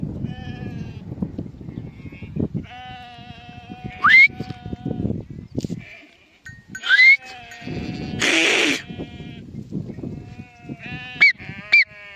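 Several sheep bleat at intervals, some close and loud, over a low rumble of background noise and scattered farmyard sounds.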